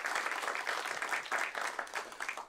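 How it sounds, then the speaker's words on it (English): A theater audience gives a round of applause for the hosts at an agri-business talk, a full, continuous burst of many hands clapping that swells and fades slightly before tapering off at the end. "so let's give them a round of applause."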